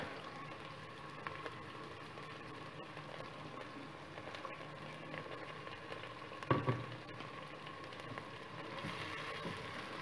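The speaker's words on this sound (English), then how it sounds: "We're going to saute these for about 3-4 minutes until they get soft." Onions and garlic sauté in a pan with a soft, continuous low sizzle and faint crackle, steady and quiet, with one brief clattering knock partway through and no talking.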